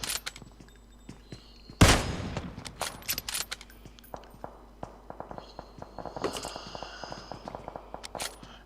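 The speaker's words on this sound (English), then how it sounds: "we can see Roshi trying to pull off some shots with the Kar 98" Kar 98 rifle shots in a battle royale video game: one loud, sharp crack early on, then scattered fainter shots and footsteps mixed with other game sounds.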